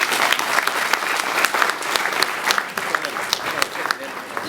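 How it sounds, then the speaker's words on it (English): Conference audience applauding, a lively, fairly close burst of many hands clapping with a few sharper individual claps standing out, holding steady throughout. "I think that's worth an applause"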